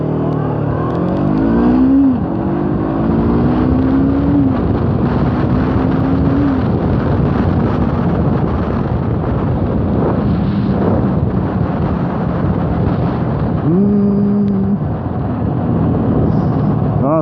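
A Honda CBF 500 motorcycle accelerates hard from a standstill to 100 km/h, the engine revving up through several gear changes with rising then dropping pitch, loud and close with wind noise throughout.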